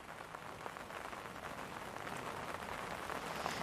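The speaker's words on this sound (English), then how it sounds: "As you can hear, it is chucking it down a bit now." Heavy rain at Manchester Airport hisses as a steady, even patter of drops on hard surfaces, moderately faint and continuous, with no voices over it.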